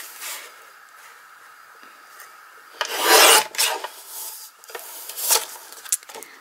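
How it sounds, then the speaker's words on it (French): Paper for a scrapbook mini album is cut with a few close, raspy scraping strokes, one long and loud, the others short and fainter, set against a quiet room. "je vais découper tout ça"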